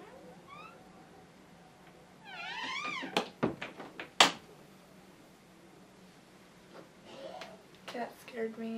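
A cat gives a few meows and then bursts into a room with thumping and knocking sounds as it pushes its way in, heard at moderate distance with some faint voice near the end.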